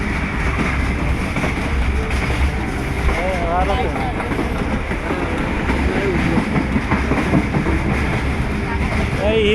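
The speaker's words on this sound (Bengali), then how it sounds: "এই হিলি স্টেশনে ঢুকলাম এখন।" Train rumbling through Hili railway station at night on the Bangladesh-India border, a steady continuous roar with faint wheel squeals, while someone talks over it throughout.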